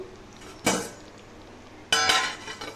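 Two clanking knocks of a metal lid set onto a pot of mutton curry with large potato chunks simmering on low gas, each a short bright clatter against a quiet kitchen background.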